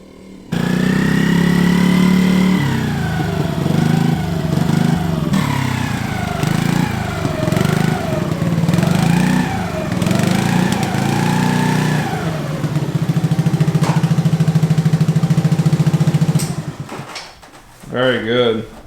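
A Polaris Outlaw 50cc ATV engine idles steadily up close for a long stretch while warming its oil, its buzzy drone wavering slightly as a person talks over it.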